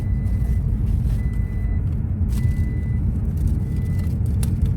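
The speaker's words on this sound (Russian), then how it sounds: "А это что пикает? Это почему-то не пристегнуто." In a parked Toyota Prius 20, a seatbelt warning chime beeps in short, evenly spaced tones over a low, steady rumble of engine or road noise, with no one speaking.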